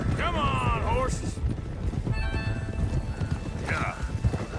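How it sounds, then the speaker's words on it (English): Mustang horses galloping in Red Dead Redemption II, with rapid clip-clop hoofbeats throughout and a couple of whinnies rising above them. Someone talks over the herd now and then. "Come on, horses."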